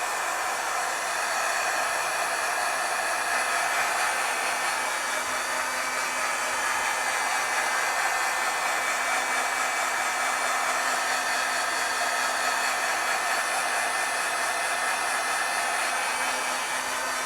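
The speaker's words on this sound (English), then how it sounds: "heat tool kind of moving a little bit" A handheld heat tool blows hot air to dry ink on a stamped art piece, giving a continuous, even whoosh of air at close range that stays steady throughout with no talking.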